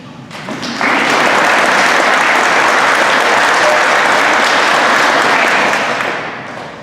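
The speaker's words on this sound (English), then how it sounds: "Let's give them a big round of applause." Audience applause at a high school FFA awards banquet, a dense sustained wave of clapping that swells up quickly, holds steady and loud for several seconds, then tapers off toward the end.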